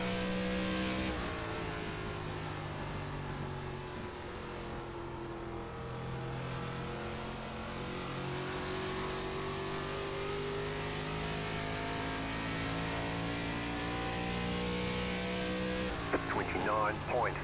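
Race car engine in the iRacing NASCAR video game at Phoenix, an ARCA Series car, holding a steady droning drone that rises and falls gradually for the whole lap, with a brief burst of higher revving near the end.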